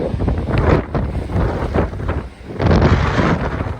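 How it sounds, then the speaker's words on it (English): Gale-force wind in Plympton, Massachusetts, roaring loud and close into the microphone as a continuous buffeting rumble with a brief lull midway before surging again. "don't know how hard these winds are blowing, but I would say like maybe gale force"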